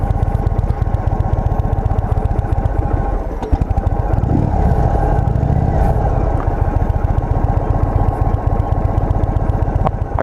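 A 2023 Indian Sport Chief motorcycle engine runs steadily and loud, a rapid even thumping throb close by with a brief revving swell midway, no voices.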